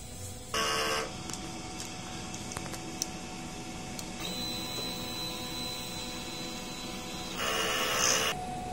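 A steady mechanical whir with faint clicks, rising into a louder buzzing burst at the start and again near the end, as an inkjet printer runs a head clean with capping and a rubber wiper.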